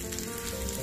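Aloo tikki frying in a pan gives a steady, soft sizzle and crackle of oil, continuous and fairly quiet with no voices.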